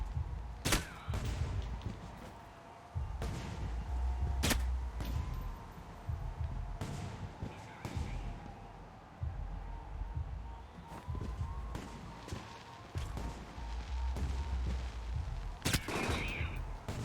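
Sharp gunshots from a video game crack out irregularly over a low rumbling background, several single reports spaced seconds apart, quite loud against the quieter bed.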